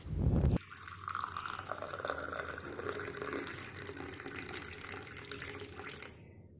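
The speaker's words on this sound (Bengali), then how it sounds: "চলো চাটা ঢেলে নিই" Freshly brewed tea poured from a pan into a cup, a short thud followed by a continuous close liquid trickle that runs for several seconds and then cuts off.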